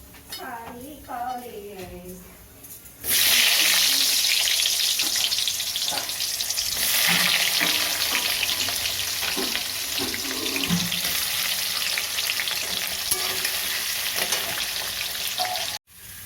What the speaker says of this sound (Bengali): যে পেঁয়াজ ভাজা হয়ে গেছে, আর একে একে সব দিয়ে দিয়েছি, চিকেন, ছোলা, এই যে মশলাটা